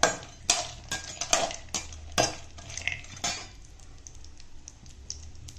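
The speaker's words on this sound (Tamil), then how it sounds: "கொஞ்சம் கரண்டி வச்சு கிண்டி விட்டு முந்திரியும் போட்டுருங்க" A ladle scrapes and clinks against a pan while cashews are stirred in ghee, giving sharp metallic knocks and scrapes that thin out toward the end over a faint frying hiss.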